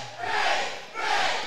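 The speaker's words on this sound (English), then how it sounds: "This crowd just chanting Payn." A wrestling crowd at a live event in Fort Dodge chants together in unison, two loud swelling rhythmic waves of massed voices filling the arena.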